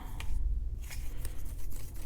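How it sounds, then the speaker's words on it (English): Sheets of paper crinkle and rustle close by, a handful of short crisp crackles spaced irregularly over a quiet background as the paper is balled up and then opened flat again. "I'm going to crumple it up and undo it"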